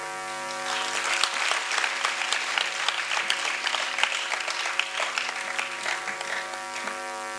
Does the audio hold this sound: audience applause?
yes